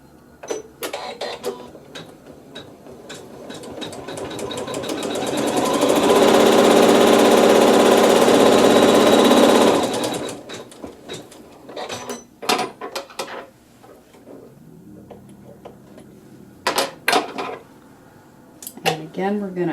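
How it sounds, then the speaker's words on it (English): A sewing machine stitches a tack-down seam on a Dresden quilt block in one steady burst of motorized whirring lasting a few seconds, followed by softer handling clicks and rustles of fabric. "I'm going to flip this and stitch another tack down stitch for step 10"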